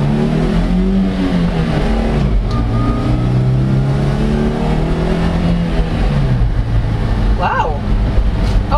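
A 2023 Toyota LiteAce panel van's engine revs up and eases off in smooth rising and falling waves, close and steady, with a voice talking over it.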